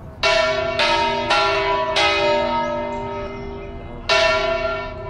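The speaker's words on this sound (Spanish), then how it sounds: "Más de 100 toques de campanas diferentes llegaron a utilizarse en torres y espadañas." Church bells ring out in several clear strikes, each long tone ringing and slowly fading, with a final strike near the end.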